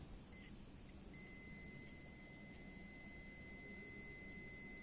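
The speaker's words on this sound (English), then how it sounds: "Then you can see a beep sound." A multimeter's continuity test gives a thin, high electronic beep alone over a faint hiss, first in brief chirps, then as one steady tone lasting a couple of seconds.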